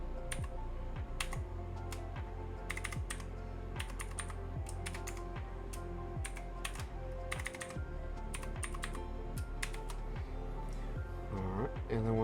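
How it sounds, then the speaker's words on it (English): Keystrokes on a computer keyboard entering a username and password, a steady run of close, quick clicks over a faint low hum, with a brief sound near the end. "we're going to go ahead and type in admin, and then the password"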